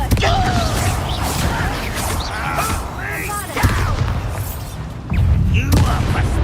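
In the Hogwarts Legacy video game, Confringo fire-blast spells burst with sharp booming impacts amid whooshes and clanks, loud and close, while a character's voice is heard during the fight.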